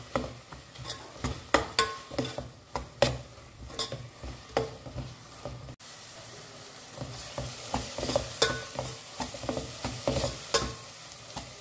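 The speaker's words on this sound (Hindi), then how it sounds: "फ्लेम को हाई करें और इसे ना 1 मिनट के लिए ना भून" Coconut onion masala paste for crab sukka stir-fried on high flame, with a steady sizzle and repeated scraping and clacking stirring strokes close by, no voices.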